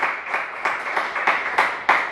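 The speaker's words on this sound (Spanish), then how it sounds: "Podemos darle un aplauso al Señor" Scattered clapping from a church congregation during a Spanish-language worship service, a handful of loud, distinct hand claps landing in an uneven rhythm close by.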